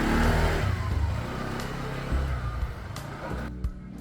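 A Yamaha Xmax scooter engine starts up close by, catching with a loud rumble and then settling into a steady, slightly uneven idle with a few small throttle blips.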